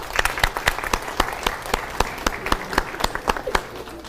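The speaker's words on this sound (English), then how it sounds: "let's make sure we give them a big round of applause" Applause for graduating high school seniors at a senior send-off, a modest group clapping in an irregular rhythm of distinct claps, close and moderately loud.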